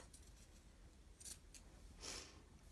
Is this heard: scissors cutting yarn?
yes